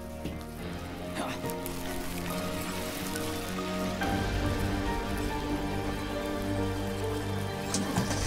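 Sprinkler system spraying water in a French-dubbed Transformers: Rescue Bots cartoon, a steady dense hiss of falling spray that holds throughout, with music and effects layered underneath.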